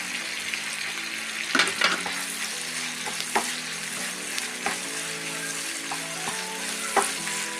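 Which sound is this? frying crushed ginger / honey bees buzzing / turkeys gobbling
frying crushed ginger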